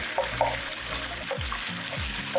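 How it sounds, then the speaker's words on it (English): Fermented fish (momoni) rinsed under running water in a Ghanaian kitchen while cooking kontomre stew, a steady close splash and trickle from a tap with a few brief knocks and clatters. "Always remember to give it a quick rinse before putting in the oil."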